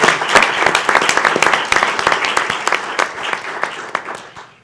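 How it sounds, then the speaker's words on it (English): A round of applause from the audience at a school board meeting, dense steady clapping close by that fades out at the end. "So I think we need a round of applause for these fine ladies and gentlemen."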